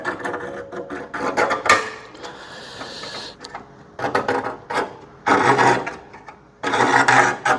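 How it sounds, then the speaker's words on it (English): A scriber scrapes a line along a car door skin in a workshop, making close rasping strokes in several separate bursts of varying length. "I'm going to scribe a line"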